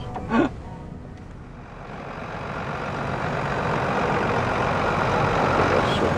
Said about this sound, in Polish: Przyjechało Iweko.